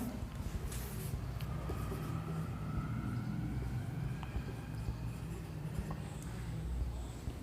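Marker or chalk writing on a board during a biology lesson about cells, a continuous scratchy stroking sound over a steady low room rumble, with no speech.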